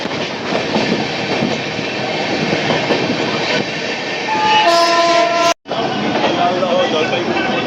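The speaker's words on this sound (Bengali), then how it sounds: "ট্রেন কিন্তু ইতিমধ্যে কল্যাণী ক্রস করছে" The 13115 Sealdah–Jalpaiguri Humsafar Express passenger train rolls along with a loud, continuous rumble and rattle of wheels on rails, a horn blast sounding partway through, followed by a brief abrupt dropout.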